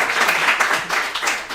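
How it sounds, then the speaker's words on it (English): A small group at a volleyball team gathering at Avicolli's gives a short round of applause, a close, continuous patter of clapping that fades slightly at the end. "Can we clap it up for Bob?"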